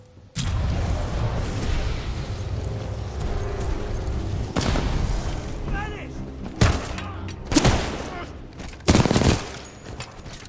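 Gunfire in the Titanfall 2 campaign, a sustained volley of rapid shots with heavier booming impacts punching through near the end, with voices talking over the battle.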